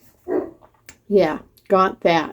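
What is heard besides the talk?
neighbor's dog barking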